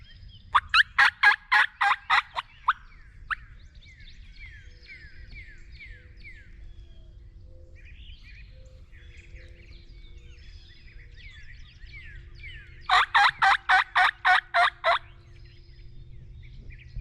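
Two bursts of rapid wild turkey gobbling in Kansas, one at the start and another near the end, with quieter bird chatter and low rumble in between.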